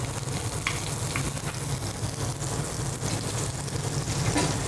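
Scallops pan frying in hot clarified butter, giving a steady, dense sizzle that carries evenly throughout with no talking.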